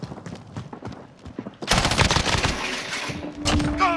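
Rapid bursts of automatic gunfire from Call of Duty: Modern Warfare, loud and close after a quieter opening, with the shots firing in quick succession over a sustained din.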